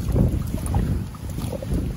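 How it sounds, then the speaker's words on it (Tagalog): Strong wind gusting over a small boat in Ligawasan Marsh, buffeting the microphone with loud, rough rumbling that swells and eases over a couple of seconds. "Lakas ng hangin mga kalaypoy"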